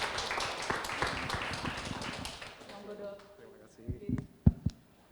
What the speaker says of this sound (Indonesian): tepuk tangan yang meriah untuk dokter Hadi.